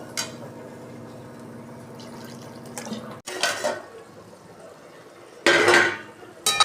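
A metal lid set down over a cooking pot of rice and potato with water, a sharp clank followed by a louder clatter, near and distinct against quiet kitchen background.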